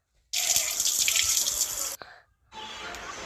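A tap runs water for washing at a sink, giving a steady close rushing splash that stops briefly with a clunk and then flows again.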